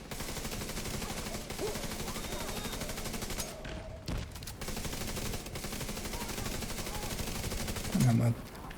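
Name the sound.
gunfire shooting multiple targets in a video game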